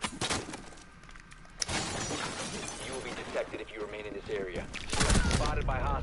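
Video game gunshots and glass shattering crack out in sharp bursts, loud at the start and again near the end, while voices talk over the action in between.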